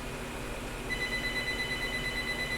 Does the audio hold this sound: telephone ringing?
yes